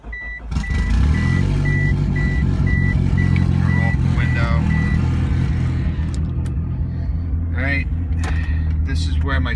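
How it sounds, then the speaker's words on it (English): A 2G DSM car's engine cranks and starts, then settles into a steady idle hum while a repeating electronic beep chimes over it for several seconds; a voice speaks briefly. "we're gonna go ahead and start first by starting the car up."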